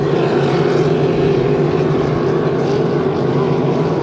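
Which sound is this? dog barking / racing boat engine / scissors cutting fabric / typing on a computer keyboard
racing boat engine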